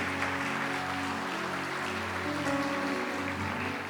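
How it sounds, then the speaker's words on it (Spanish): Congregation applauding in a church service after a pastor's call, a steady wash of many hands clapping at moderate loudness with sustained organ-like tones underneath and no talking. "Denle un aplauso al Señor por eso."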